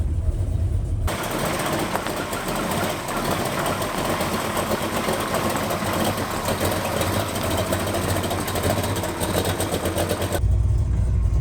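A mystery auction racecar with a new engine runs steadily while being driven, a dense, loud, continuous engine roar with rough low rumble and no talk over it.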